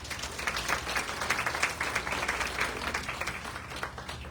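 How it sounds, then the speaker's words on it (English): A round of applause for Erin at a fall fashion show, steady clapping from an audience held at moderate loudness throughout. "Let's give Erin a round of applause."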